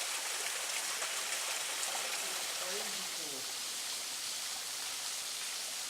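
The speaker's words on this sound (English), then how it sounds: "I'm already seeing waterfalls" A waterfall beside the Buffalo River trail gives a steady, full rushing roar that fills the whole stretch, and a faint voice briefly surfaces beneath the water noise.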